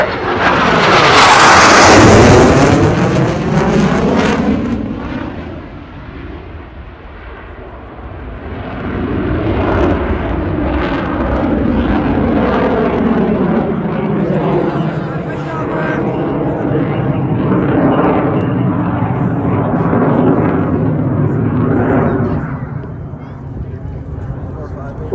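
A CF-18 Hornet fighter jet roars past at the Gatineau-Ottawa airshow, a loud sweeping engine roar that swells, fades, then builds again into a long rumbling pass, with an announcer talking over it.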